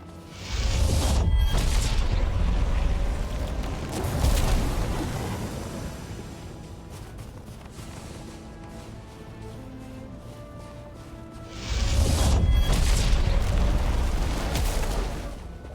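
Detonated charges in the video game Thor's Day go off as loud, close booming blasts, one near the start and another later, each rumbling into a crackling decay.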